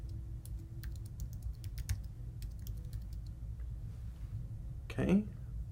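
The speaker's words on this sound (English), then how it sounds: "So I'm going to type in mine." Keys clatter on a computer keyboard in short, irregular bursts of quiet taps, typing in account sign-in details, over a low steady room hum, followed by a brief louder rustle near the end.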